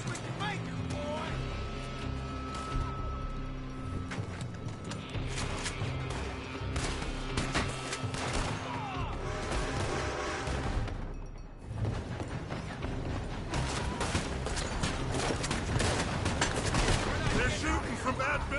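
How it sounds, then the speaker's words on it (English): Gunfire in the Red Dead Redemption video game, shots coming from a building: dense, continuous volleys crackle and pop for the whole stretch, with voices speaking over the shooting. "They're shooting from that building."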